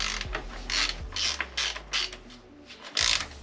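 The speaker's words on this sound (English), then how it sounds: "I'm going to undo the spindle bolt first, while the spindle is still clamped by the forks" Ratchet clicking in short bursts as the front wheel spindle bolt of a BMW R1150GS motorcycle is undone, repeated mechanical pawl clicks at close range with brief pauses between strokes, no talk.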